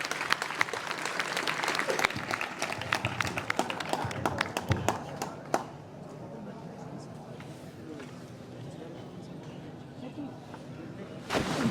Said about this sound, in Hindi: तो सभी एक बार जोरदार उनका तालियों से उत्साहवर्धन करेंगे